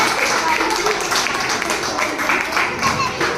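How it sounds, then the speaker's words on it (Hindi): Loud clapping for a guest at a Ghaziabad Anuvrat Samiti gathering on Ahimsa Day, a sustained, steady round of applause from the audience with voices mixed in. "हेमंत के आलोक जी के लिए जोरदार ताली"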